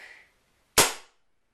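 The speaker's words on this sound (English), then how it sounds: "Since I didn't have any bullets in it, it popped back to tell me that it was not loaded." An unloaded airsoft sniper rifle gives a single sharp, loud pop on dry fire. A brief faint hiss comes just before it, and the pop fades quickly into silence.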